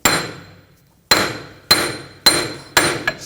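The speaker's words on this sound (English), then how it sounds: "Using a punch, I'm just going to give it a tap, try to loosen up the axle from the hub." Hammer tapping a punch to loosen the front CV axle from the hub on a 2000-2006 BMW X5, five sharp metallic strikes with ringing decay, roughly evenly spaced, close and loud, no speech.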